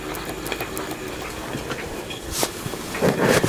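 A Stuart Turner 10H model steam engine runs with a quiet, steady rhythmic chuffing and mechanical clatter, close by, with a few sharper hissing bursts toward the end and no talking.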